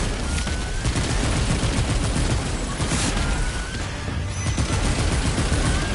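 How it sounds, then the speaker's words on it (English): Sustained rapid gunfire from Remnant 2 combat, a dense, continuous fusillade of overlapping shots at steady loudness throughout, with no voices. "Stop shooting."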